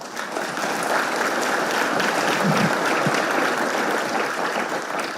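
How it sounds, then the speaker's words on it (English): Conference audience applause after a speech at a world news media congress opening ceremony: sustained, even clapping from a large crowd filling the whole stretch, fairly loud and unbroken. "Let's give her a round of applause to thank her."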